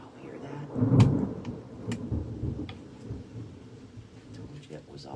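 Low rumble of thunder swelling and fading early on, then scattered sharp ticks and taps of rain under quiet outdoor ambience while someone works on a garden fence.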